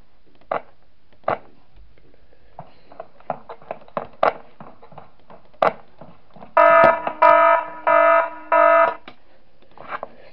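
An alarm from the video game Five Nights at Smash Bros 3 blares in four loud, evenly spaced buzzing blasts, preceded by scattered sharp clicks and taps that stand out alone against the quiet.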